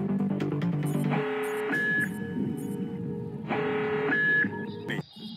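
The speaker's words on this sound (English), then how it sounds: "That's one alarm too many." An electronic security alarm blares in the stealth video game Tom Clancy's Splinter Cell on the Georgian Defense Ministry mission, sounding in two long loud repeated bursts over game ambience, with a few soft electronic chirps.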